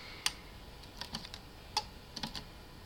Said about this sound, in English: you hear the relay clicking in it.